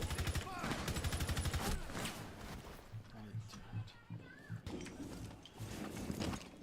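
Suppressed gunfire in Rainbow Six Siege, rapid rhythmic bursts of muffled shots early on, then intermittent fire and game sounds under a player talking throughout.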